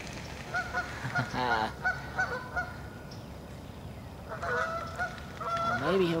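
Geese honk loudly at close range in bursts, crowding around an otter feeding on a fish, with short pauses between clusters of calls.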